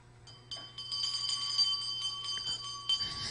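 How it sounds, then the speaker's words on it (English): A small puja hand bell rings during a sacred bath offering at a Hindu pada puja ceremony, with bright metallic strikes shaking in a fast, continuous jangle that keeps going through the offering. "please ring the bell as you do so"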